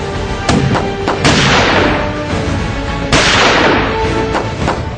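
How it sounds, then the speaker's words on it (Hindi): Continuous gunfire across the border in the Samba sector, with repeated loud sharp reports and booming blasts rolling into dense echoing bursts, sustained throughout at close to moderate distance with no talking. "पाकिस्तान की ओर से लगातार गोलियां चल रही हैं"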